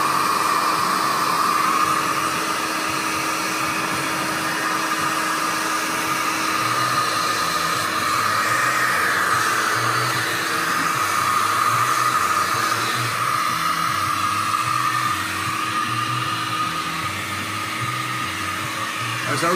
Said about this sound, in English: Now we're going to take a round brush and a blow dryer, medium heat.